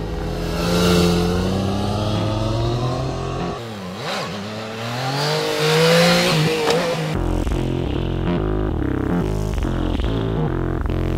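A Yamaha MT-09 three-cylinder motorcycle engine revs and accelerates up through the gears on Croatian roads, loud and close, with rising and falling engine tones and a rougher pulsing idle-like stretch near the end.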